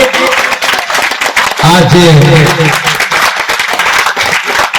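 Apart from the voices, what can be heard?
audience applause welcoming a guest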